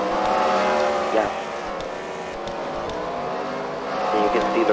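Race cars in a CWRL final-round fight-night race at the Freedom Factory, engines droning and whining as they pass in traffic on track, with rising and falling revs under an announcer's commentary.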